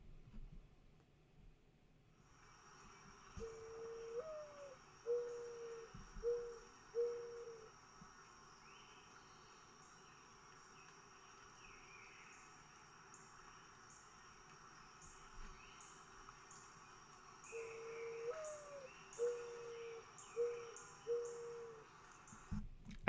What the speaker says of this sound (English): mourning doves have this beautiful kind of coo sound to them